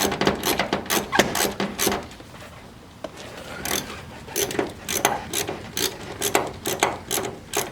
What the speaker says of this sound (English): So we're going to go ahead and get this bolt out of here.